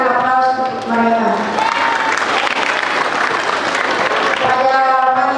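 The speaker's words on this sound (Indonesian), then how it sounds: "Mari kita berikan aplaus untuk mereka." Audience applause at a Qur'an graduation ceremony for junior high school students, steady clapping from a crowd filling the whole stretch, with voices murmuring underneath.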